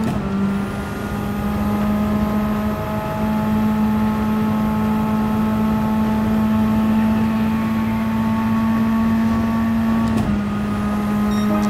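A race car engine in Gran Turismo holds a steady high-rev drone near the limiter for the whole stretch, with a brief dip and jump around a gear or throttle change near the end, loud and continuous with no talking.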